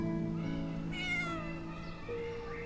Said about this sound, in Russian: Смотрите, котенок.